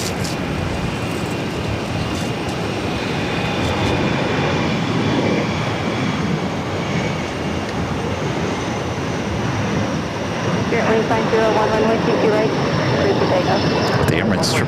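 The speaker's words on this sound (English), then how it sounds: "The Emirates 777 to 300 ER taxiing in front of us here." An Emirates Boeing 777-300ER taxis at Boston airport, its engines making a loud, steady broadband roar that holds through the whole stretch, with voices talking over it.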